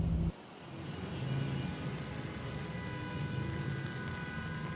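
Continuous broadband hiss of heavy rain on a city avenue with a low traffic rumble underneath, steady and unbroken throughout.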